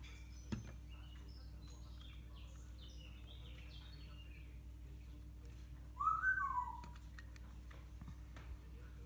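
Gabi, an African grey parrot, whistles once partway through, a short bright swooping call over a quiet indoor room hum, preceded by faint scattered chirps and ticks.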